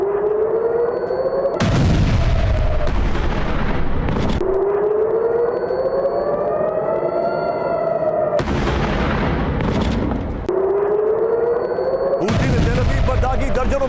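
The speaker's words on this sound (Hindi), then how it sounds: "तेल अवीव पर हूती का विनाशकारी हमला" Over Tel Aviv, a civil defense siren wails and rises repeatedly while heavy booms and blasts from a missile attack burst in loudly between the siren cycles.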